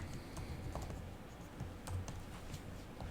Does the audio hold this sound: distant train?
no